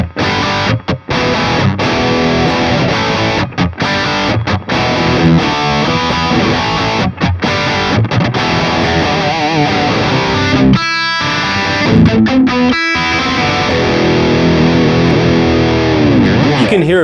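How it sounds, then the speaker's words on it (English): Electric guitar plays through the high-gain channel of a good amp, a loud, thick distorted tone with sustained saturated chords and brief choppy stops, continuous for about seventeen seconds. "I always prefer the distortion from a good amp like this"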